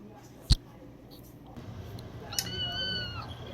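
A kitten lets out a sharp close meow, then a longer rising cry a couple of seconds later, among other cats and kittens in a home with low background noise.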